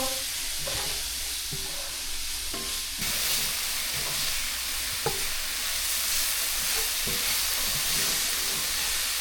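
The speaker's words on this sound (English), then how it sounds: "I'm going to go in with the shallot and garlic. And saute that until it's clear and fragrant." Shallot and garlic sautéing in a hot pan at a camp-style cook of wild Osceola turkey, a steady close sizzle with scattered clicks of stirring running throughout and no one talking.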